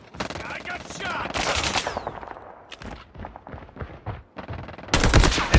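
Loud bursts of automatic gunfire and single shots ring out during a Call of Duty match, with rapid clustered volleys and brief pauses between them. Game voices speak between the shots.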